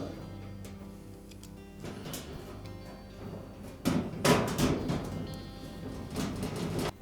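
Metal back panel of a Maytag washer being fitted back on, with slots engaged along its bottom edge: scattered clanks and scraping knocks that grow louder and busier toward the end.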